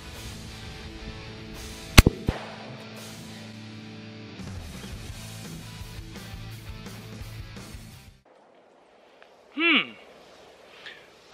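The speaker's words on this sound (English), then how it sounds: "All right, here goes that buckshot." A single sharp .410 buckshot gunshot from a Taurus Raging Judge Magnum revolver fired into a watermelon, one loud close crack early on followed by a voice talking over background noise.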